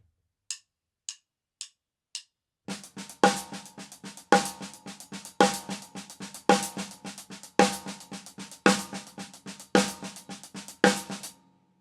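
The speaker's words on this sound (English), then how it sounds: "Now, if we don't put any bass drums on it, it sounds like this." A drum kit plays a linear groove, a steady single-stroke roll on cymbal or hi-hat with loud snare backbeats and no bass drum, after four count-in clicks, close and dry.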